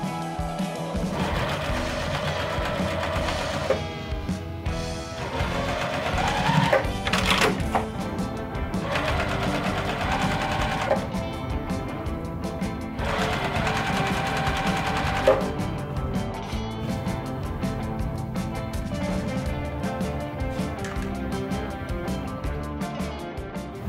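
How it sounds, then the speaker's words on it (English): A sewing machine stitches quilt block rows together in several rapid, steady bursts of mechanical whirring separated by short pauses, close and clear with no talking. "I'm gonna sew my rows right together"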